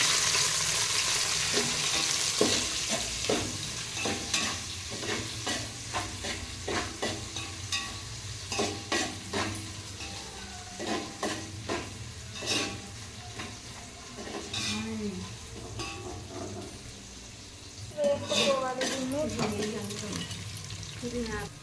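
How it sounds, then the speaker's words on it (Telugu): Green chillies fry in a pan for a chicken dish, a steady close sizzle broken by frequent clattering stirs and scrapes of a spoon, with brief voices murmuring faintly underneath. "నెక్స్ట్ పచ్చిమిర్చి వేసుకోవాలి ఇది కొంచెం రెడ్ కలర్ వచ్చేదాకా వేయించుకోవాలి"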